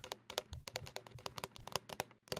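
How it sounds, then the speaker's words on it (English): Typing on a computer keyboard, a rapid irregular run of sharp key clicks and taps, close and fairly loud, with no voices. "Typing, keyboard."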